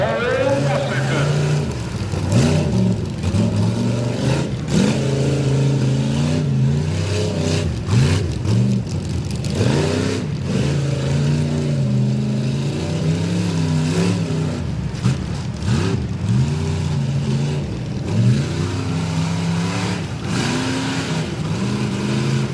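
Tough truck at a county fair course revving hard and racing, loud fluctuating engine roars rising and falling repeatedly over a sustained rumble, with an announcer's voice partly over it.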